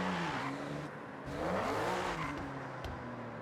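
A BMW M2 being driven in the racing game Forza Horizon 6: a steady engine drone that rises and falls in pitch with revving, close and continuous over road noise.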